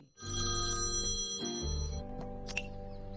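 A telephone rings loudly and close, a sustained electronic ringtone with bright harmonic tones that shift pitch midway, with no talking.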